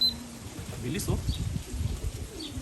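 A racing pigeon arriving at the loft coos with low, throaty bubbling calls close by, mixed with people talking excitedly and a few faint higher chirps.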